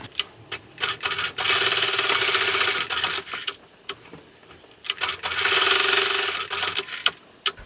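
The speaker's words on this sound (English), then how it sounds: "you're going to sew down each long side of this tab with a 1/8 inch seam allowance" A sewing machine stitches down the long sides of a quilting cotton keychain tab in two sustained whirring runs broken by short stops, clicks and handling noises, close and with no talk.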